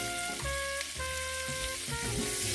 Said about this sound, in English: So I'm going to just throw those potatoes in the pot.